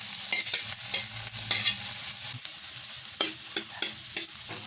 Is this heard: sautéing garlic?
yes